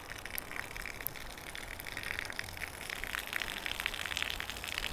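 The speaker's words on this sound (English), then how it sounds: "There's the famous Glasgow waterfall." Glasgow waterfall by the Science Centre on the Clyde, a steady soft rush of falling water heard from a distance, faint and continuous with light splashing.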